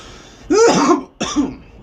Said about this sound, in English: I still have not gotten rid of this cough